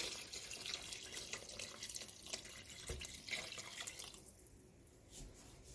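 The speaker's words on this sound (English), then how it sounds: "Now Add the rest of the liquid" The remaining liquid for a German sauerbraten is poured into a cooking pot, giving a steady splashing, trickling flow that runs for several seconds, close and moderately quiet, then thins out near the end.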